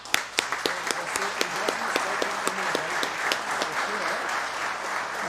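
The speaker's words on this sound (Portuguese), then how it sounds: "Gostaria de aplaudi-los e o aplauso fica para vocês" Steady applause fills a solemn session of the Lins city council chamber, honouring military representatives of the 37th Battalion; dense clapping from the gathered audience holds for several seconds with a few sharper claps standing out and some voices mixed in.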